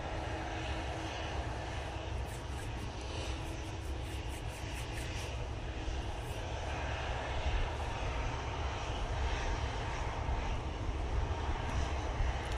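Airliner taking off at Manchester Airport bound for Amsterdam on a windy day, a sustained distant jet roar with deep rumble and wind noise, building slightly in the second half, no voices.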